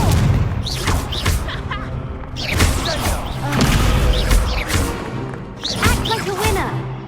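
Spell impacts in a Hogwarts Legacy duel, repeated booming thumps and crashes in bursts over a dense game soundscape, with shouted spell voices mixed in.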